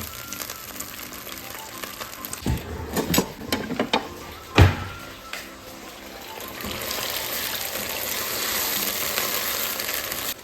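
Food sautéing in a pan, a steady sizzle and hiss with a few louder clattering stirs and splashes early on, close by, settling into continuous frying noise.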